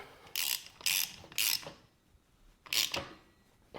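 A hand ratchet torques a bolt on a Yamaha Warrior ATV engine, giving four short, close bursts of sharp clicking with quiet pauses between them.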